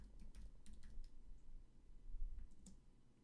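A computer keyboard being typed on, soft quick key clicks in short irregular runs, faint and close, with no voices.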